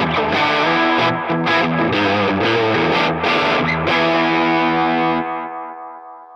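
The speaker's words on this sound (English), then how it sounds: "It's very much a delay with a dirt rather than a dirt with a delay, and it's a very crunchy distortion rather than an overdrive" An Into The Waves modulating echo pedal driven with crunchy distortion on a guitar: a thick, saturated chord rings with wobbling, repeating echoes, then trails off into a decaying tail, loud and alone.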